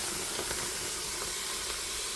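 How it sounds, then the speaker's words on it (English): Chicken sizzling and steaming in an Instant Pot on saute, a constant close hiss with faint crackle and no talking over it. "It is time to put the chicken in the Instant Pot and let it get going."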